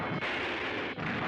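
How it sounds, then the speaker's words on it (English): An explosion in a 1970s animated Saturday-morning cartoon, a loud, dense, continuous roaring blast filling the whole moment with no talk. "Oh, look at that explosion!"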